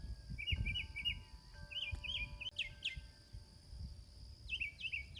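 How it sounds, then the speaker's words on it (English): Birds chirping in an early-morning vegetable garden, bright repeated bursts of calls in small clusters, fairly faint with a quiet outdoor background and scattered soft rustles. "you can hear the birds"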